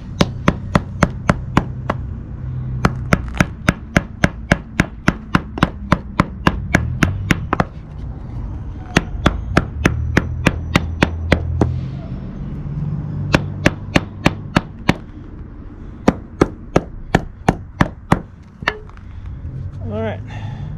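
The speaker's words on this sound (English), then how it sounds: "we're just going to pop this on and hammer this down" Hammer blows drive a Roadmaster bushing into an RV rear track bar, sharp metallic strikes in rapid bursts with brief pauses between runs, close and loud, with a voice talking between the strikes.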